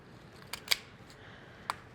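A few crisp snips as kitchen shears cut the side fins off a whole fish, three or four short sharp clicks spaced apart, close and fairly quiet with no talk.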